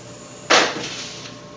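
A single sharp spray burst of cleaner onto a kitchen counter, a brief close hiss that fades quickly over a quiet room background.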